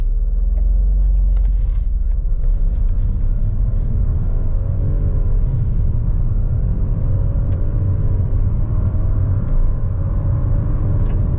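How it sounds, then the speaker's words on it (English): Turbocharged three-cylinder 2026 Nissan Rogue in sport mode accelerating hard from a standstill, a loud steady engine drone and road rumble rising in pitch through the run, heard from inside the cabin with no talking. "0 to 60 in the 2026 Nissan Rogue. I'm in sport mode. I'm going to do a brake rev"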